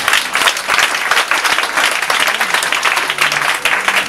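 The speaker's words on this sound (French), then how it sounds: "Acclame le Seigneur Jésus." A church congregation applauds at a lively service, producing dense, continuous loud clapping from many hands throughout, close and steady with no pause.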